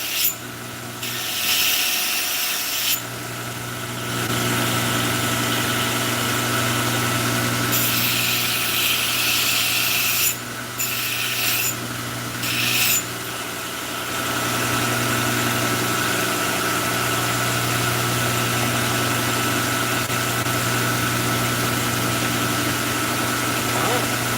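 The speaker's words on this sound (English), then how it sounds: "I'm just thinning out this edge a little bit. A profile in the bevel." A grinder steadily thins and profiles the bevel edge of a trapper's tomahawk in a blacksmith shop. Its loud continuous whine and rasp run for most of the clip, with brief pauses and changes in pitch as the grinding contact shifts.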